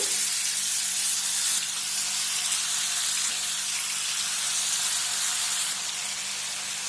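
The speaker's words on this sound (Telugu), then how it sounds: "ఇలా వేసుకున్న తర్వాత ఒక ఐదు నిమిషాల పాటు బాగా ఈ చికెన్ ఉడికేంత వరకు ఫ్రై చేసుకుందామండి" Spicy garlic chicken frying in hot oil in a pan, a loud, steady, close hiss of sizzling that holds evenly without a break.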